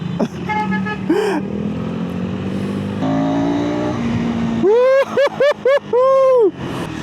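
A KTM SMC-R 390 motorcycle idles steadily, then its engine is blipped through four or five sharp, rising revs in quick succession, loud and close.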